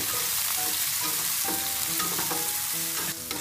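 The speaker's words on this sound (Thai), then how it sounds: "นำกุ้งที่เตรียมไว้นะครับเลยผัดลงไป ทีนี้ก็ผัดให้สุกเลยนะครับ" Shrimp sizzle and crackle loudly as they are stir-fried in a hot pan, with repeated scraping stirs of the spatula through a steady hiss and no voices.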